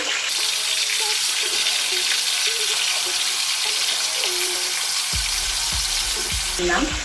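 Fish pieces for biryani fry in hot oil with a steady, close sizzle and crackle, joined near the end by a few clanks and scrapes of a utensil.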